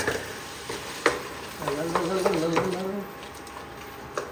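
Tomatoes for tomato rice sizzle softly in a pan while being stirred into a paste, with occasional utensil knocks and a voice talking briefly midway.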